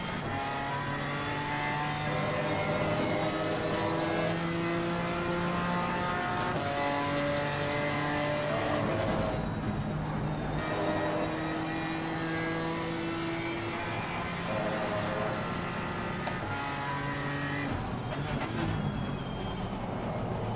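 A BMW M4 GT4 race car engine in a racing video game drones continuously at high revs, with gear shifts and pitch swings rising and falling. The engine stays loud and steady throughout with no talk.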